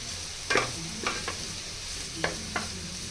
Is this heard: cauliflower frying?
yes